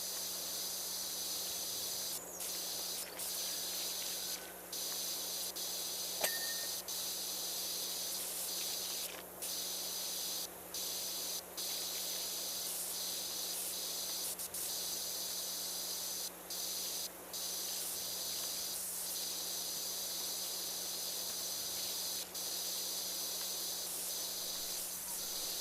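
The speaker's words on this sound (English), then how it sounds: "Spray this off." Pressure washer jet in PowerWash Simulator 2, a continuous loud hiss of spray running steadily with brief dropouts as the trigger is released and pulled again.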